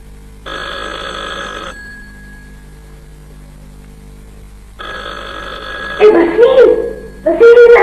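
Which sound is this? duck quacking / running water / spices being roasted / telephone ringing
telephone ringing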